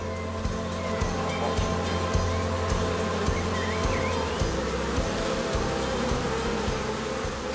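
Honey bees buzz steadily around an apiary of about fifteen hives, a dense continuous hum with many insects droning close by and no voices.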